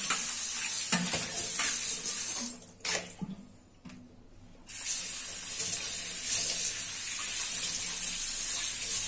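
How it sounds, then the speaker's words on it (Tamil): Raw fish being washed by hand with salt and water, with a steady wet splashing and rubbing that runs loud throughout, dropping briefly to a near pause midway before resuming. "உப்பு போட்டு இப்படி நல்லா கழுவணும்"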